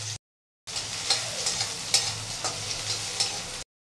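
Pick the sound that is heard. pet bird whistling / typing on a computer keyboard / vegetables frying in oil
vegetables frying in oil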